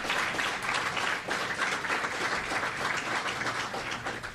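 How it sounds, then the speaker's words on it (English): Troops at an event in Hawaii give a sustained round of applause, a dense, even wash of many hands clapping together at fairly close range for several seconds. "Give yourselves another round of applause."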